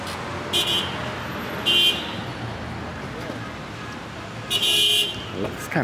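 Car horns honk in busy city traffic in Randburg, three short bursts spaced a few seconds apart over steady roadway noise, with a voice talking in the background.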